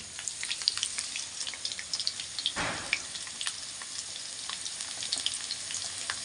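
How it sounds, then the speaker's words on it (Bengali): Potatoes fry in hot oil in a pan for a chicken dish, giving a steady, moderately quiet sizzle with scattered crackles and pops and one brief louder stir midway. "তাই এটাকে আলুটা ভাজছি"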